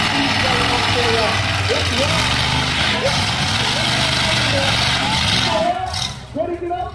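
A monster truck engine at an auction show rumbles and revs under a crowd and an announcer talking over a loudspeaker, a loud sustained roar that dips near the end.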